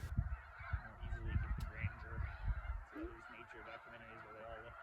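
A flock of geese honks as it comes in to land at feeding grounds at Bosque del Apache, many overlapping calls close by and fairly loud, with a low rumble underneath.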